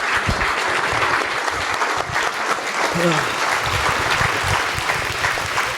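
Audience applause for cricketer Rohit Sharma at a live Q&A show, a loud, steady wash of clapping that lasts throughout, with some crowd noise mixed in.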